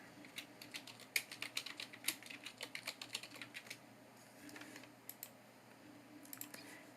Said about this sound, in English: Okay, we have typed our text.